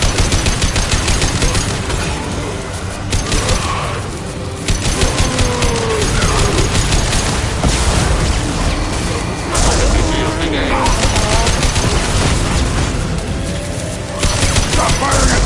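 A Mass Effect Legendary Edition firefight with dense, loud bursts of rapid gunfire and booming shots crackling almost without pause, and voices mixed in among the shooting.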